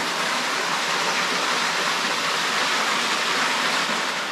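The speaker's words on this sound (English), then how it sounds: "So you get that little tiny waterfall there" A tiny waterfall in a creek beneath a rock shelf pours in a steady, close broadband rush of splashing water, unbroken and alone with no voices.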